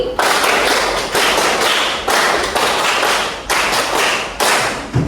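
Two rounds of five rapid hand claps in a high school classroom clap game, a steady run of crisp, loud claps with short gaps between groups and a faint murmur underneath.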